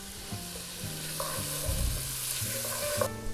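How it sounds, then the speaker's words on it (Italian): A whole garlic clove sizzles steadily in a frying pan, a soft continuous hiss with faint stirring and background tones, no talking. "e facciamo soffriggere bene"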